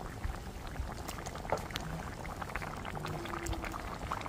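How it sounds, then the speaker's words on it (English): A pot of catfish curry simmers with a steady, soft bubbling and crackle, close and continuous with small pops scattered throughout. "check out that curry is cooking up"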